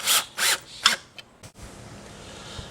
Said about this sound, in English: And then I'm just going to use my driver,